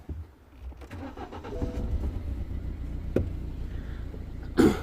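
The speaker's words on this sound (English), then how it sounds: "Let's start the engine." A misfiring BMW 116i is cranked and started after a low background hum. The engine catches with a loud burst near the end.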